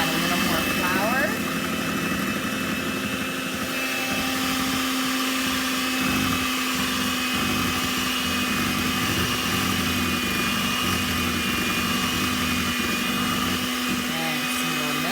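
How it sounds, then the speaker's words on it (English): An electric stand mixer whirs steadily while beating chocolate cake batter, a constant close motor drone with a scraper bumping the bowl, and someone talks over it throughout. "Just be careful not to get my scraper into my mixer."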